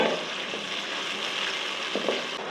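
Whole garam masala spices (cumin, star anise, cinnamon, chillies, bay leaf and cloves) sizzle steadily in hot oil for matar pulao, a continuous broadband hiss with a couple of faint clicks near the end.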